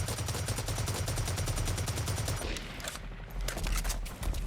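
Rapid automatic bursts from a machine pistol in a video game, with a dense crackle for the first half, then a short pause and another spray of shots near the end.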